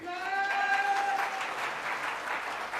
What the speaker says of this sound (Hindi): एक बार जोरदार ताली हो जाए सभी लोगों के लिए